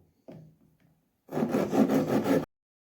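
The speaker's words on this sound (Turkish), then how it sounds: "Öncelikle ağaç dalını kafamda tasarladığım ölçülere göre kesiyorum." A brief scrape, then a second of rapid back-and-forth sawing through a tree branch, loud and close, stopping abruptly into silence.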